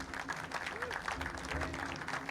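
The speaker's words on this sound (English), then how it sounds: "Yay, polite claps." Polite applause from a crowd in Mafia: Definitive Edition, a steady patter of claps with a faint tonal hum beneath and some voices mixed in.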